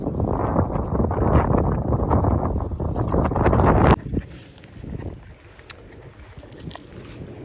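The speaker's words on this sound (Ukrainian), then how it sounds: "Вітрюган нереальний." Strong wind roars and buffets the microphone for several seconds near a dam at Ivachiv, Ukraine, then drops suddenly to a quieter gusty rustle.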